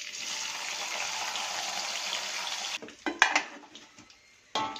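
Chillies, candlenuts, shallots and garlic fry for sambal in a steady close sizzle, which then breaks off into clattering utensil and pan clinks as they are stirred.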